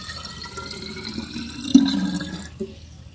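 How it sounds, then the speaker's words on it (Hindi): Water runs into a bottle as it is filled, a steady close splashing and trickling that swells briefly partway through before tapering off, with no voices. "चलो इस बोतल को यहाँ तक पानी से भरते हैं"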